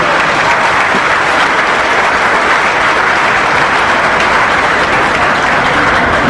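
A loud, dense wash of applause rises from a crowd at an assembly in Meta, unbroken and steady for the whole stretch.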